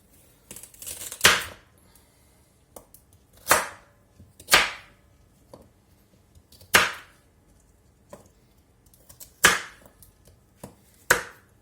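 Potatoes being chopped coarsely with a knife, several sharp, crisp cuts landing close by at irregular intervals of one to two seconds, each a distinct chop against the board with quiet gaps between and no talking.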